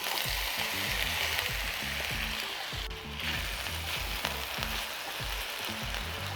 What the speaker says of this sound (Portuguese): O meu azeite já está quente, então eu posso colocá-las.